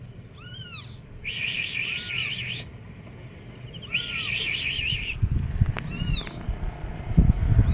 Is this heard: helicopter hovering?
no